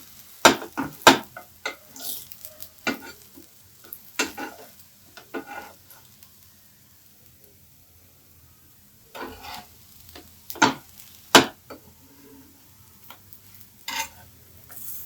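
Brinjal slices fry in a pan at a low, quiet sizzle while a utensil scrapes and taps as the pieces are turned one by one, giving irregular clicks and short bursts with no talking.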